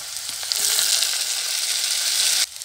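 Ground spice paste hits hot oil with fried onions for a rohu fish curry, giving a loud, steady, close-up sizzle that holds for over two seconds and then drops off abruptly near the end.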